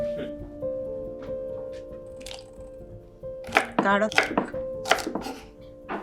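Kohlrabi, radish and carrot being chopped on a board in a home kitchen, a run of sharp knife strikes clustering in the second half, fairly close, with faint background music tones throughout.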